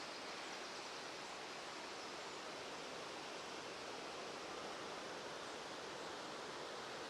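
A river rushes steadily past an old water-powered mill on a highland hike, a dense, unbroken wash of flowing water holding at an even level throughout with no voices.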